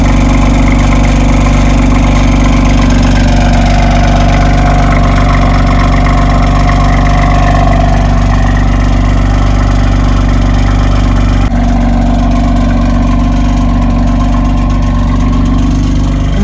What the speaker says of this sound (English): how does the 3-liter inline-6 sound like in the CS? Well, here's a clip of it idling